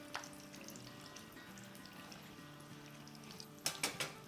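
Potato-stuffed chili pakoras fry in hot oil with a steady low sizzle and bubbling, then a few sharp crackling bursts near the end as oil is spooned over or they are turned.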